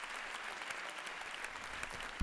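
Applause from an audience at the Pontifical Lateran University in Rome for Pope Leo XIV, a steady, fairly faint wash of many hands clapping with no voices over it.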